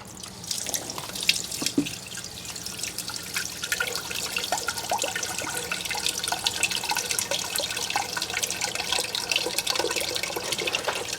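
Water drains steadily from a depressurized water softener tank, opened to replace its resin, into a catch container, a continuous close trickle and splash with scattered drips running the whole time without pause.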